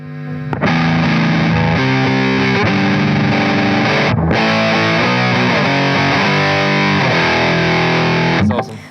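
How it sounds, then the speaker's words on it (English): Electric guitar played through an amplifier straight in without the signal pad, a loud continuous run of chords and riffs with a brief break near the middle, sounding fairly distorted rather than fully clean. "can we hear your amp just clean? Your amp without the signal pad?"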